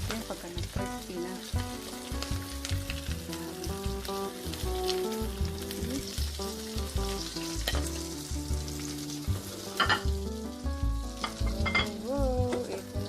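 Pork chop frying in hot oil, a steady dense sizzle running throughout at moderate level, with brief louder crackles near the end and background music playing underneath.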